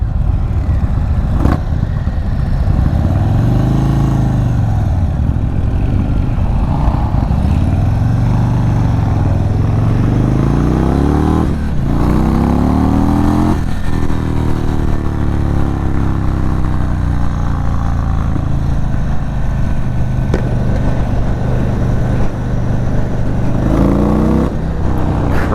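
A Stage 2 2022 Indian Chief Dark Horse motorcycle engine rumbles loudly while riding, rising and falling through several revs and gear changes, with constant wind noise and no talk.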